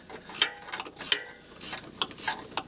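A hand ratchet clicks in short bursts while a 3-way adjustable drag shock is fitted on an S10 truck. The clicks are loud, close and sharp, in uneven runs of a few turns with pauses between.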